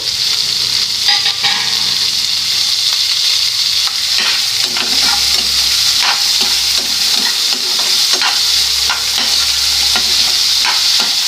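Small pieces of tomato and potato fry in a pan for semiya upma with a loud continuous sizzle, crackling pops and stirring scrapes spread over several seconds, with no talking.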